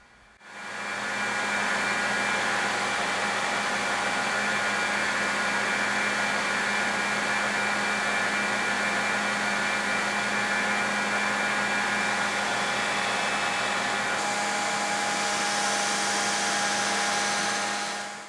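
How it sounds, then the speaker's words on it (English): Steady, continuous whir of a belt grinder shaping the bevels on a stainless steel knife blade, loud and unbroken for most of the span before tapering off near the end, with no talking. "it's time for the hardest skill part of the build, grinding the bevels."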